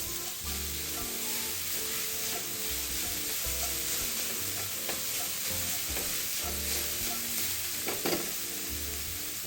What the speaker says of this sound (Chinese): 放入猪肉碎，转中火翻炒，继续炒至猪肉变色